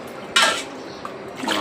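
Water is poured from a glass into a cooking vessel in two short, close splashing bursts with a brief pause between them.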